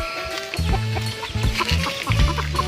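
A brooding hen clucks nearby in short, low, repeated bursts, with soft farmyard sound between the calls.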